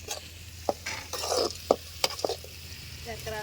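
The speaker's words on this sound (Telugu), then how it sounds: "మా పద్ధతిలో మేము చేస్తున్నాం చూడండి కాకరకాయ తాలింపు" Bitter gourd rounds fry in oil during village-style cooking. A steady sizzle runs under sharp metal clinks and scrapes from stirring in the pan, with a few loud taps standing out close by.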